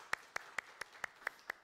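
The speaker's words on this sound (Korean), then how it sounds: "두 분 환영의 박수 하겠습니다" A church congregation at a Sunday worship service claps to welcome two newcomers: faint, distant, evenly spaced claps, about seven in quick regular rhythm, sounding almost like a single beat.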